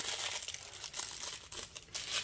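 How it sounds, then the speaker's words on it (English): Soft, continuous crinkling of paper towel close up, rustling in small irregular bursts with no voices. "get out my little bit of paper towel"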